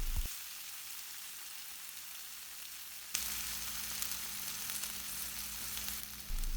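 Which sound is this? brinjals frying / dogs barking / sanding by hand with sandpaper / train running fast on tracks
brinjals frying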